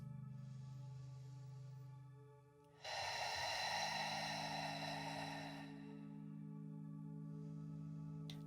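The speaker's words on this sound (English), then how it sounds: "Let's take one more breath in and out." A slow, deep breath in and out during a calm bedtime yin yoga session, a soft airy rush swelling for a few seconds then fading, close and quiet over a steady low background hum.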